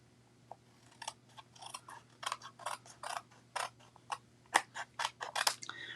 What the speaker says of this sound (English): so I'll take my scissors.